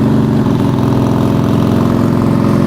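Harley-Davidson motorcycle engine close by, a loud, rumbling, lumpy idle with throttle held slightly open, steady throughout without voices.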